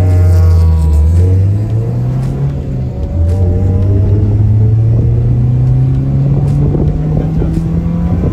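A Honda car driving hard on a race track, heard from the passenger seat: loud, close engine drone rising in pitch as it accelerates, with a brief dip for a shift and constant cabin rumble.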